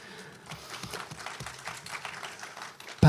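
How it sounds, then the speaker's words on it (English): Audience applause at a SXSW panel session, a scattered wash of clapping from the room at moderate, fairly steady loudness, ending in a brief loud thump. "So please give a round of applause for Patrik Frisk."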